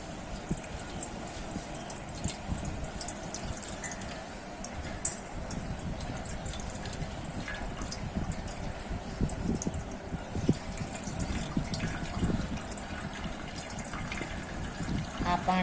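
Whey dripping and trickling from yogurt hung to drain in a tied cloth over a bowl in a home kitchen, a steady soft watery patter with light background noise and no talk.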